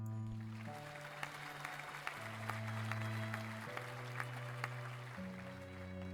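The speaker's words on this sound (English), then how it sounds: "Applause fills the room as Haedong timidly moves to the center stage" A room full of people applauds as an awkward, timid figure steps to center stage, even clapping with a few sharper claps standing out, set over a soft sustained music bed that shifts chords.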